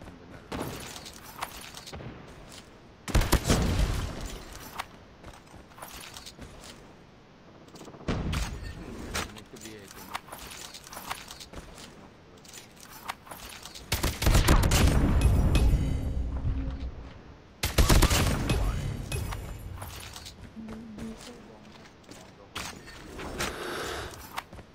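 QXR gun firing in a live-streamed shooter game during a season update, with bursts of loud automatic fire and booms spread across the stretch, separated by quieter gaps of game ambience.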